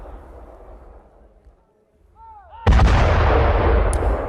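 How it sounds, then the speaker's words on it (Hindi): A sudden loud blast bursts in after a brief whistling rise, followed by a sustained heavy roar and rumble; a single powerful oil tanker explosion, close and dominant. "ऑयल टैंकर में हुआ है जोरदार धमाका।"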